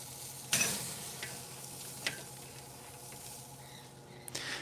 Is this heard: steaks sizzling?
yes